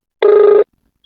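A mobile phone rings once, a single steady electronic tone lasting under half a second, loud and close, with silence around it.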